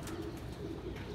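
High-flying pigeons coo softly and steadily in a low, throaty murmur, with no voices over them.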